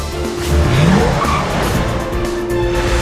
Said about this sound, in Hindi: ये गाड़ी खुद ब खुद कैसे पार्क हो गई